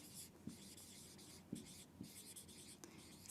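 Pen writing by hand on paper, a steady close scratching with brief pauses and small taps as strokes start, heard alone in a quiet room.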